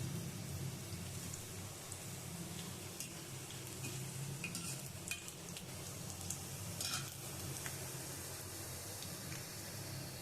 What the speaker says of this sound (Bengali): এই চামচের সাহায্যে আমি এখানে বন্দিয়াটা ভেজে নেব সুন্দর করে